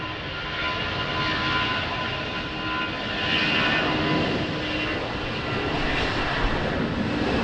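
A departing jet at Lisbon Airport roars continuously at a distance in rainy, windy weather, a broad steady engine rumble that swells slightly midway and holds without any talk.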